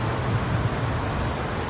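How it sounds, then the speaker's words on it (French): Heavy rain pours steadily during a first meal in Sigiriya, Sri Lanka, a dense hiss with a low thunder rumble rolling beneath it. "Et il pleut."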